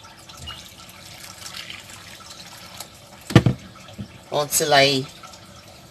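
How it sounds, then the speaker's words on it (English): Water is poured into a hot cooking pot of meat pepper soup, giving a brief splash and trickle close by, with someone speaking around it. "So I'm going to be adding water."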